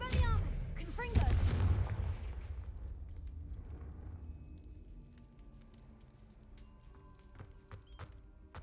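A Confringo blasting spell detonates in the Hogwarts Legacy game, a loud booming burst up front that rolls into a long rumbling decay, with scattered crackles and smaller impacts trailing off afterward.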